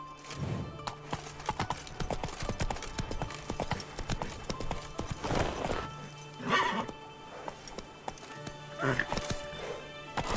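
Roach the horse gallops in The Witcher 3, with hooves pounding in a quick, repeating rhythm and an occasional whinny, as a voice speaks over the hoofbeats.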